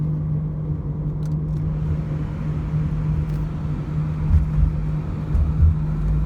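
A Nissan Altima engine idles smoothly and steadily, a constant low hum with a faint tonal whine, recorded close with no talking.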